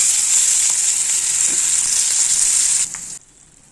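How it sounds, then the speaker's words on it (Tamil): Garlic sautés in hot oil over a low flame for a tangy sorrel-leaf thokku, a steady close sizzle that holds evenly and then drops away abruptly near the end. "ஸ்லோ ஃபயரில் வச்சுட்டு பூண்டை நல்லா வதக்கிக்கலாம்"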